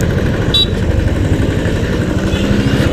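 A Royal Enfield Classic 350 motorcycle engine ridden uphill through city streets in Dimapur, Nagaland, a loud, close, continuous thumping engine drone throughout, no talking.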